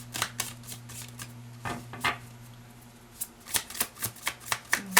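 Tarot cards being shuffled, a run of crisp riffling bursts and slaps with a pause in the middle, close and fairly quiet over a low steady hum.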